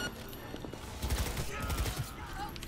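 Rapid gunfire rattles in a firefight in the video game Cyberpunk 2077, a dense fusillade of overlapping shots under a talking voice.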